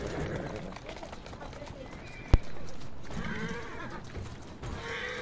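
A horse in Assassin's Creed Syndicate snorts and whinnies amid running hoof sounds, with a sharp thump midway, all under ongoing game ambience and a talking voice.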